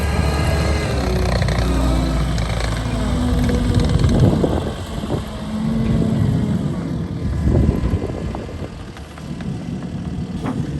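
Blue Angels jet flyover above a Gulf Breeze shoreline worksite, a loud, sustained broadband roar that swells and fades slightly across the stretch, with no speech over it.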